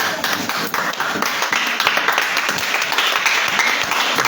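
A church congregation applauds during a service, filling the space with loud, dense, sustained clapping from many hands that continues without a break.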